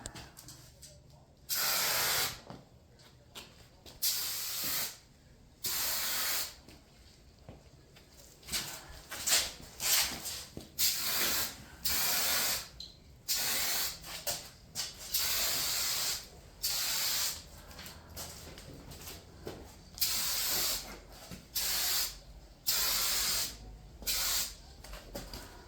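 Rattle-can spray paint hisses onto a Jaguar X-type in repeated bursts of a second or two, close and loud, with brief gaps and faint background sound between sprays.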